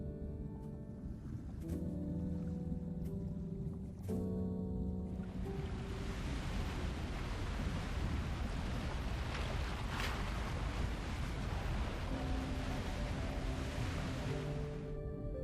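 Strong ocean waves roar in a video game scene, a loud continuous surge with wind-like rushing that swells in after a few soft sustained musical tones.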